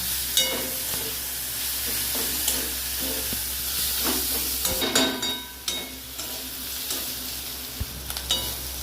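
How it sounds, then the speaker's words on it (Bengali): Ginger paste with green chillies fries in a pan as a spoon stirs it, giving a steady close sizzle and hiss with irregular scraping and clacking strokes, and no talking. "আর দেব এই বড় চামচের 1 চামচ মতো আদা বাটা দিয়ে বাড়িটাকে একটু নেড়ে চেড়ে নেব।"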